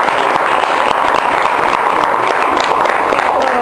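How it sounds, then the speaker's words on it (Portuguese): A classroom audience of high school students gives a loud, dense round of applause, steady clapping filling the room throughout with no talk over it. "por gentileza, uma salva de palmas"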